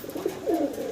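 A Lahori pigeon gives a brief, low, throaty coo up close, two soft rolling notes in under a second.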